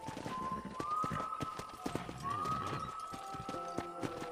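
Horse hooves clip-clop at a steady trot in the Red Dead Redemption ranch setting, crisp repeated clops, with faint whistling tones and a soft ambient backdrop, no speech.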